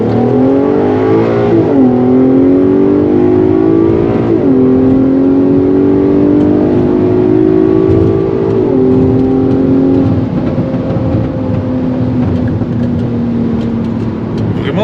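A Volkswagen Golf 5 R32 engine drones and revs steadily, pitch rising and falling through gear changes, with exhaust pops, loud and close, with no one speaking.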